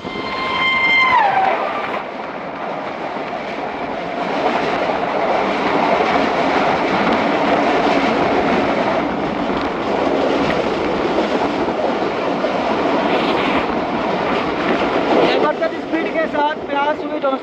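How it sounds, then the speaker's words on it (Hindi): A passenger express train, the 10 Down Allama Iqbal, rolls through an abandoned station site in Pakistan, a steady loud rumble of wagons with a brief horn blast at the start and clicking wheels near the end, with speech over it. "तो 10 डाउन अल्लामा इकबाल भी मोहसिनवाल पास कर रही है।"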